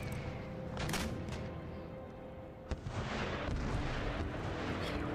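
Artillery booms out in an Empire Total War battle, a series of deep heavy blasts and rumbling reports with a sharp crack near the middle, fairly close and loud, with no talking.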